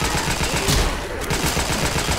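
Rapid bursts of gunshots from the Left 4 Dead video game, loud and continuous with a brief dip in the middle before the firing resumes, heard close with no talk.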